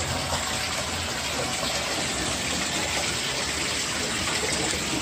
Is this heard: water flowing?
yes